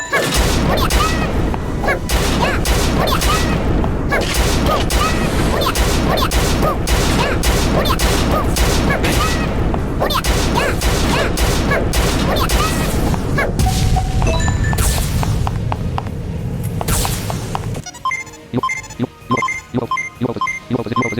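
Missiles and bombs detonate in the BK2 video game as a dense, loud barrage of booms and crashes, followed near the end by a choppier burst of rapid blasts.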